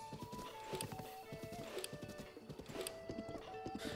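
A horse in Zelda Breath of the Wild trots with rapid, rhythmic clip-clopping hoofbeats, close and fairly quiet, with a few short tonal game chimes layered over the steady gait.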